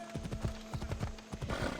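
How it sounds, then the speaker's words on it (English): Horse hooves clip-clop in a fast, steady rhythm in Assassin's Creed Odyssey, close and loud as the horse moves across the terrain, with no talking. "You're an amazing horse."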